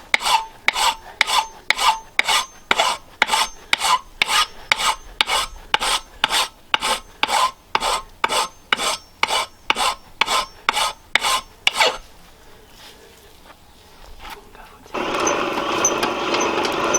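A junk file rasps over steel being forged into a Roman-style flint striker, giving about twenty steady, evenly spaced strokes close by. The strokes then stop, leaving a quiet gap before a broad hiss starts up.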